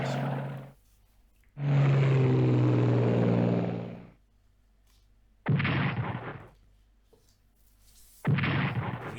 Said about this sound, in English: Let's also keep bombing Tobruk, or Italian bombers.